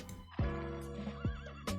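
Horses of horse archers whinny and snort in a video game battle, several short neighs in quick succession alongside hoof clatter, fairly close but quiet in the mix.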